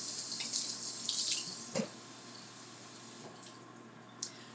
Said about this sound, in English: I got to wash my hands and clean up this mess.